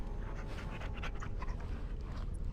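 A summoned war dog pants steadily in Dragon Age: Origins, rapid rhythmic breaths loud and close throughout, alone without talk.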